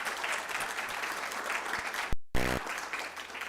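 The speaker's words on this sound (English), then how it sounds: "let's give all our resource panelists a big round of applause" Audience applause fills a conference hall at a youth mental health event, steady dense clapping throughout, interrupted by a brief gap partway through.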